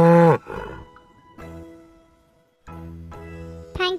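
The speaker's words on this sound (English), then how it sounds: "Cow says moo moo." A cow moos several times, short low calls with pauses between them, close and fairly loud, with no talk over them.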